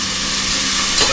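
Onions frying in a pan, a loud, close sizzle that holds steady throughout, with a brief stirring sound near the end.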